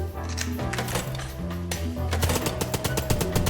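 Rapid Tommy gun bursts in the game Chicken Police, a dense stream of clattering shots over steady tonal background music, growing quicker and louder toward the end.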